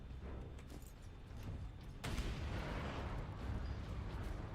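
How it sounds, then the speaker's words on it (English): A grenade explosion in the video game Warhammer 40k: Space Marine, a sudden heavy blast that cuts through the steady combat noise, followed by a sustained rumbling roar. "Take a grenade!"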